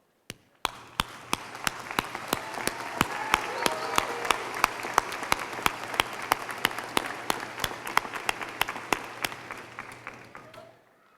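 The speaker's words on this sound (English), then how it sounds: "join me one last time before receiving our diplomas in standing and applauding everyone here who has made us" At a Hoover High School Class of 2015 commencement, the gathered crowd claps for a long stretch, with sharp individual claps standing out above a broad wash of applause that fades near the end.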